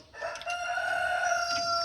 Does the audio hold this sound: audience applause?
no